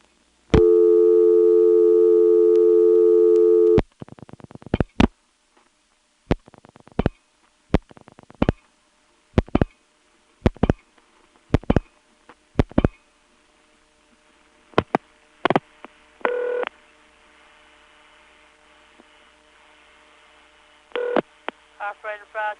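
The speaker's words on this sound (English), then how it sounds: "Here is an operator intercept number in this 755 number 2 ESS where something odd was going on with the intercept trunk." Telephone intercept trunk tones on a 755 number 2 ESS exchange: a loud steady tone lasting nearly four seconds, then a long series of sharp clicks and short tone bursts with quiet gaps, ending in faint clicking.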